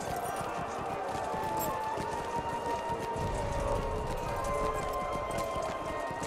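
A horse gallops in the video game Besieged, giving a fast, steady clatter of hooves that runs through the whole stretch under dense game ambience.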